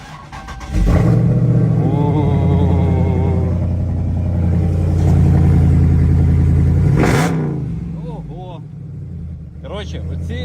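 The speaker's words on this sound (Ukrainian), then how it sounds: "Зараз буде холодний старт." A 6.4-litre Scat Pack V8 fires up on a cold start at minus seven degrees, a loud bark settling into a rough, heavy idle for several seconds before cutting off, with people talking briefly afterward.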